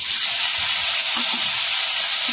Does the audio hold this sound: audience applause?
no